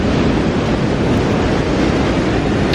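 Big overhead ocean waves pound Chigasaki beach during typhoon swell, making a loud, continuous roar of surf mixed with wind buffeting the microphone, with no voices.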